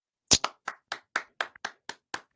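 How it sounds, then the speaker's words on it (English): A single person claps alone about nine times in an even, slightly slowing rhythm, each clap crisp and close with quiet gaps between. "I give you Round of applause, Brett."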